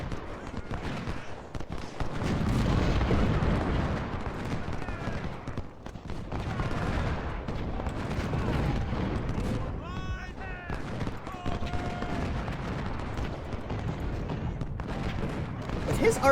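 Artillery fire in the Ultimate General: Civil War game at Gettysburg, heard as dull booms and a rumbling battle din that stays dense for most of the stretch, with a player talking over it.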